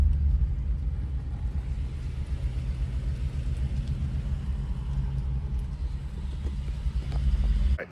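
A Coyote-swapped 2014 Ford Expedition idles close by with a heavy, steady low rumble that keeps going for the whole stretch, occasionally uneven from misfires, with no talking over it.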